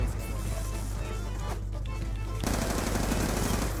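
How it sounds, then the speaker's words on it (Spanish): An MTAR assault rifle in a video game fires rapid bursts of close, loud gunshots that rattle continuously, with a heavy low thump behind them. "Ya empecé a disparar en ráfaga todo para conseguirlo"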